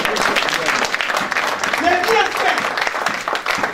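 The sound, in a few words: congregation applauding in church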